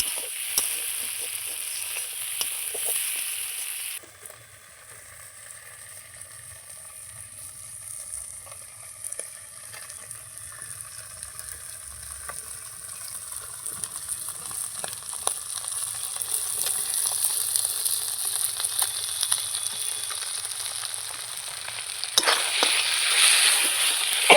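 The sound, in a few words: onion and green chilli frying in oil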